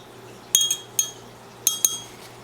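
Food coloring dye mixture being stirred in a glass, with a few light clinks of the utensil against the glass in two quick pairs over a quiet background.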